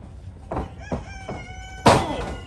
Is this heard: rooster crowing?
yes